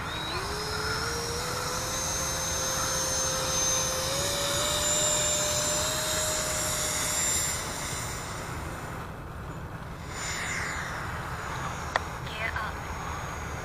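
An FMS F-18 model jet taking off without flaps, its electric ducted fan whining up steadily in pitch and staying loud and near before fading off, with a voice speaking briefly.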